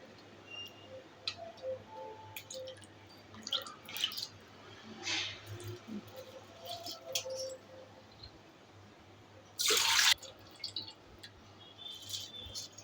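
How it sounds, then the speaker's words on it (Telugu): Soaked rice is drained of its water and tipped into a pot for a ghee biryani: quiet scattered drips and small wet squishes, then one short, loud rushing pour near the end. "అట్లా నీళ్ళన్నీ ఓడిపించి వేయాలి బియ్యం."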